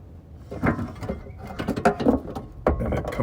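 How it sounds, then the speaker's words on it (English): Factory rock rails on a 2021 Ford are lifted off the studs through the pinch welds, giving close clunks, plastic creaks and scrapes in irregular bursts. "we will actually lift the rock rails out from the studs that go through the pinch welds"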